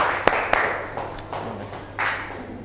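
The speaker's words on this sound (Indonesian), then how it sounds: "Ayo tepuk tangan dulu." Students in a classroom give a handful of sparse, distinct claps, a few sharp close hits spaced apart rather than sustained applause.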